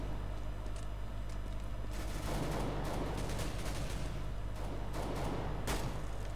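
Counter-Strike: Global Offensive gameplay with dense, loud gunfire and rapid shots piled over a constant noisy game background, without audible talk.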